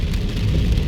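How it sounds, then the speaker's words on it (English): Heavy rain pours down around a car driving along Nellis Boulevard in Las Vegas, a steady, dense rumbling wash of noise, loud and continuous. "the rain starts to fall a little more heavily now"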